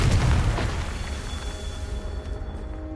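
A Confringo spell explosion in a Harry Potter video game: a loud, deep boom bursts out at the start and decays into a rumbling, crackling tail with a faint ringing tone over about three seconds.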